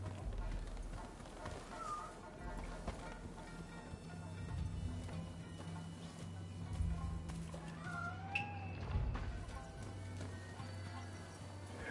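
A cat meows a few times, faint and thin, in the video game Rise of the Ronin, over a busy background of game sounds and low rumbling.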